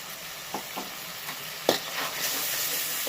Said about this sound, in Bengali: এবার দিয়ে দেবো মটরশুঁটিটা